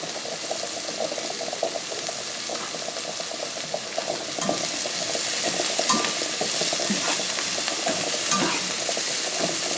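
Onions cooking in a pot for lasagna soup: a loud, continuous crackling sizzle with dense spitting pops close by, swelling slightly in the second half, with no voices.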